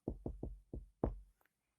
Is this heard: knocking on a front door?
yes